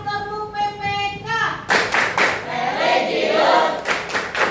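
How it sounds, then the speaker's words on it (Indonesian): A group of women perform a rhythmic clapping chant (tepuk PPK), sharp patterned hand claps in bursts after a sung or called-out lead; voices chant along with the claps. "Yuk kita mulai tepuk PPK."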